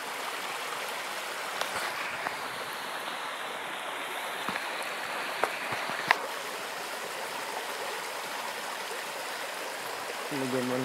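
A steady wash of flowing stream water runs throughout, moderately close and even, with occasional small splashes and clicks and a brief voice or tone near the end.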